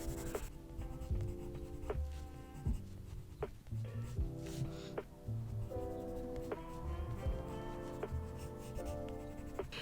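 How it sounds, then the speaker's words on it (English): Pencil shading the hair of an anime character in a sketch, heard close up as repeated soft scratchy strokes in a steady back-and-forth rhythm, quiet and alone. "I'm gonna add just some shading to Nishinoya's hair"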